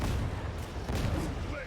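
Muffled heavy blasts from an Ogryn's hand cannon in Warhammer 40k: Darktide, booming low and dense amid game noise, with a voice talking underneath.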